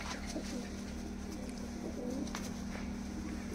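Several pigeons cooing in a loft, a steady low rolling coo running throughout with a soft background hum and no talk.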